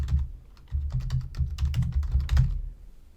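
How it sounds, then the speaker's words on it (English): Close, clattering keystrokes on a computer keyboard, typed in quick irregular bursts of several taps with short pauses, heard alone without speech. "You can just type in here."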